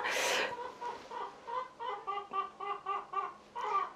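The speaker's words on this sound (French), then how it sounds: "c'est la poule qui est en train de me dire qu'elle a hâte d'avoir son poulailler" A hen clucks repeatedly in a steady rhythm of short calls, close by, after a brief burst of noise at the start.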